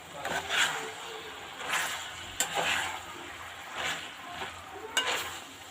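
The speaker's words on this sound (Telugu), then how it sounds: "మళ్ళీ ఒకసారి కలుపుకోవాలి." Botti curry is stirred in a sizzling pan, with five rhythmic scraping sweeps of a spoon, about one per second, over a soft, steady sizzle close by.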